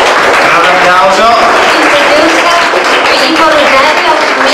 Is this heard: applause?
yes